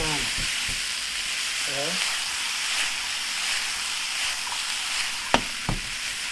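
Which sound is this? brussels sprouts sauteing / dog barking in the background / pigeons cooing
brussels sprouts sauteing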